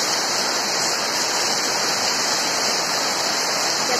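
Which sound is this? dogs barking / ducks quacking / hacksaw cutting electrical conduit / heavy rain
heavy rain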